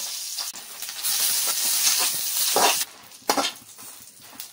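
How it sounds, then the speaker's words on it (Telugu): Dried red chillies sizzle in hot oil in a pan, a bright hissing crackle that swells and fades in bursts, close and fairly loud with no talking. "ఆయిల్ వేడైన తర్వాత ఎండు మిరపకాయలు వేసుకోవాలి."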